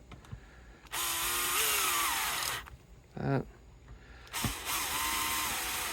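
A power drill drives screws into a Telecaster-style guitar fitted with an Evertune bridge. Two long, loud whirring runs are separated by a brief burst of rapid ratcheting clicks, and a voice speaks briefly nearby.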